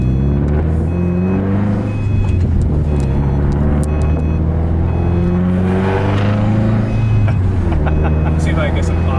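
The exhaust of a 2010 Subaru STI hatchback fitted with a Nameless track pipe drones loud and low as the driver downshifts, the engine note rising and falling beneath a voice.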